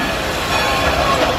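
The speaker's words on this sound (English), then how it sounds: "let's take a little train ride here on the Dollywood Express" The Dollywood Express theme-park train rolls along in a steady, dense rumble of wheels on rail, with a broad hiss and clatter filling the sound throughout, close and continuous.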